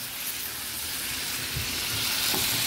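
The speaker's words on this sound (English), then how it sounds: "The butter is burning." Butter burns and sizzles in a pan with a burger patty, giving a steady close hiss and spatter that grows slightly louder toward the end.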